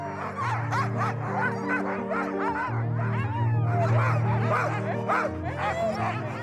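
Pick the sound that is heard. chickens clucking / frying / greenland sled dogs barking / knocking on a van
greenland sled dogs barking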